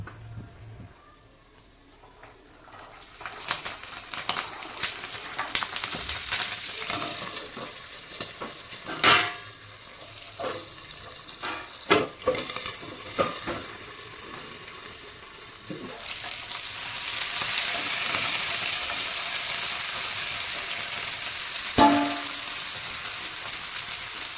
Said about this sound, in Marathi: व्यवस्थित लसूण भाजून घेऊ तीन मिनिट आपण त्याला भाजून देतो